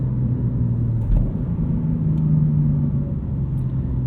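A 2023 BMW M2 with six-speed manual gearbox hums with a low engine drone while driving, the note swelling briefly as revs rise and fall under steady road rumble.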